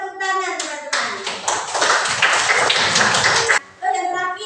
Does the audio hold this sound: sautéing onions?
no